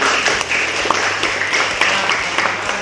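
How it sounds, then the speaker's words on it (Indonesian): Audience of students applauding at a school event, a steady dense patter of clapping that carries through the whole stretch, fairly loud and close, with no talk over it. "Oke, tepuk tangan juga ya."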